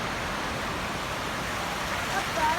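Flood water from heavy rainfall runs through a street by homes and shops in East Ham, London, a steady broadband rushing wash that stays even and moderately loud throughout, with no voices in it.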